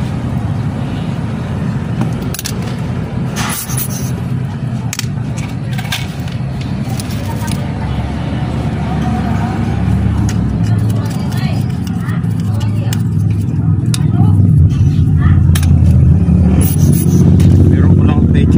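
A road vehicle's engine runs steadily as a low, rumbling idle that grows slightly louder and rougher toward the end, with scattered clicks and handling noises over it and people talking nearby.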